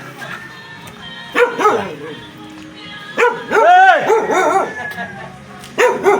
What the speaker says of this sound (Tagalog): Ingay ng aso nyo.